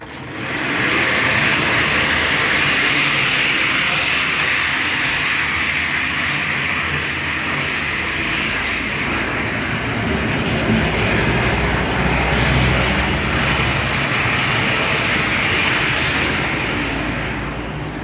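A continuous mechanical whir and hum as a weighted cardboard model of a Škoda 69E class 363 electric locomotive runs steadily along a layout track, holding even for the whole stretch.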